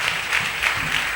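A congregation claps together at a French-language church service, a brief burst of dense, steady applause heard close and fairly loud.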